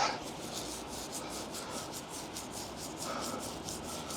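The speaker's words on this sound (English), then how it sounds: "Scotch-Brite will always take off the worst of the salt" A Scotch-Brite pad scrubbing salt build-up off a metal part: steady, close rasping strokes in a quick back-and-forth rhythm, fairly quiet, with no talk.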